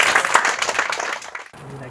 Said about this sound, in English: please give him a big applause and support him today